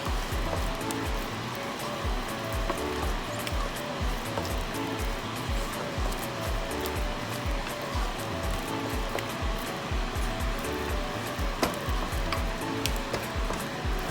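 Nigerian egusi soup is stirred in a pot, a continuous close sizzle and wet churn with a low, steady rhythmic swishing and no voices.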